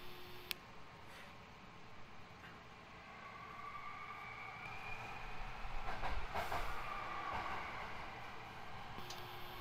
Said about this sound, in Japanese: We are now arriving at 上新城 station number HK64.